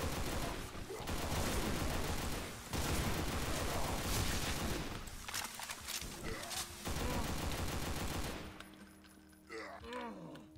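Gunfire rattles in Project Brutality Doom, dense, continuous bursts of rapid shots and blasts fired almost without pause, loud and close, then cutting off into quieter game effects near the end.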